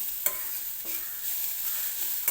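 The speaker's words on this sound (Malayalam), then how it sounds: "അപ്പം ഞാൻ ഈ അടുപ്പത്ത് തോരന് ഇളക്കി കൊടുക്കുന്നുണ്ട്." Ash gourd peel thoran with grated coconut is stirred in a pan on a stove, a steady soft sizzle with a few brief spoon scrapes against the pan, close and alone.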